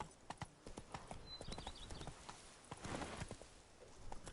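Hooves of Roach, a horse in the video game The Witcher 3, clip-clop in a quick galloping rhythm, steady and fairly close throughout, with a few brief high whinny-like sounds partway through.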